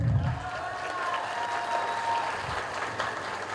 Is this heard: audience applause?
yes